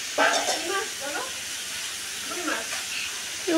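Rohu fish cooking in a pan at home, a steady broad sizzling hiss running throughout at moderate level, with a voice talking over it now and then.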